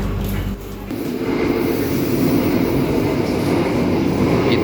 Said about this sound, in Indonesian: keretanya udah berangkat lagi dari stasiun Gombong